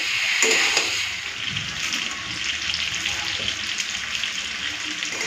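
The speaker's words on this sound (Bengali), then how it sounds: "এই কিছুক্ষণের জন্য একটু কষে নিই তারপরে জলটা দেবো" Potatoes and fried duck eggs sautéing in a pan of hot oil give a continuous bright sizzle, loudest at the start, with occasional stirring.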